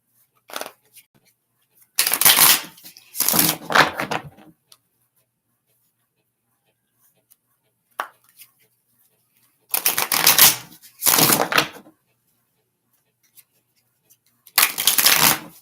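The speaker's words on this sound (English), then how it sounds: "Shuffling." Tarot cards are shuffled in several quick riffling bursts, each a second or two long, separated by near silence and a couple of faint taps.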